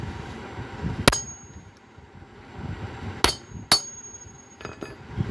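A hammer taps a bearing onto a washing machine motor, four sharp metallic strikes spread unevenly over a few seconds, close and ringing briefly, with no talking.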